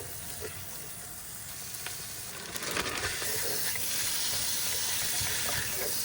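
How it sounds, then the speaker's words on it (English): A stir fry sizzles in a hot pan, a steady close hiss that jumps louder partway through as food goes in and keeps frying with faint stirring scrapes, no voices over it. "I'm going to do a little stir fry"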